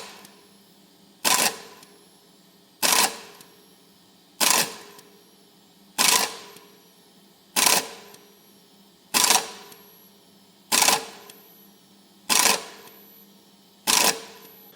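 A 3D printer fitted with Nanotec motors on an 80 mm pulley y-axis runs an acceleration sweep, giving nine sharp, evenly spaced bursts of movement about every 1.6 seconds, with quiet pauses between them.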